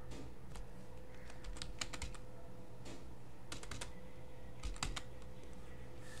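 Short command typed on a computer keyboard: a few quiet clusters of light key clicks separated by pauses, close and faint, with no talk.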